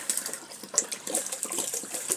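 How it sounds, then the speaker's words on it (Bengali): Water gushes steadily into a cooking pot being filled all at once, a close, continuous splashing stream with no talking. "পানিটাতে দিয়ে দাও, ভর্তি করে দাও, 1 হাঁড়ি ভর্তি একবারে।"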